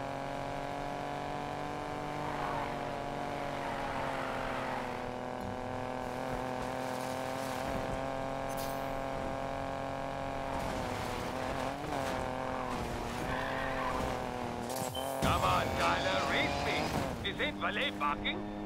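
A race car engine in Need for Speed Payback holds a steady, loud drone with sustained harmonics, rising in pitch near the end with a brief burst of tire squeal and skidding.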